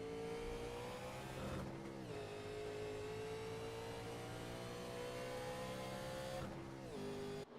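A 1987 850-horsepower race car engine drones loudly and steadily from on board during a road-course lap at Watkins Glen, its pitch climbing through each gear and dropping sharply at two upshifts, with no talk over it.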